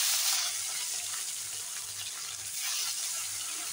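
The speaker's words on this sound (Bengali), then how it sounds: "এখন মাছগুলো ভাজা করব। এখন এক এক করে মাছগুলো ছেড়ে দিই।" Rohu fish pieces sizzling in hot oil in a pan, a steady loud hiss of frying throughout with faint bubbling, no voices.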